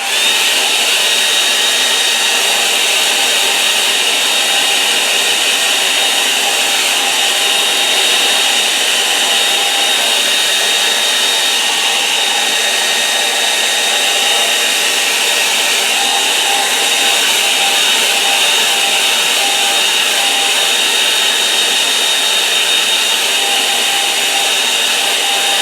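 A hair dryer blowing steadily on a watercolour painting, a loud, constant close whir with a high-pitched whine that holds unchanged for the whole stretch, no talk.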